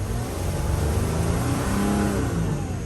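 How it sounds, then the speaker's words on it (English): A Mercedes Sprinter van's engine, fault codes P0299 and P2007 and sluggish performance, revving loudly and steadily throughout, a continuous close engine roar with no talk over it. "let's see how it revs"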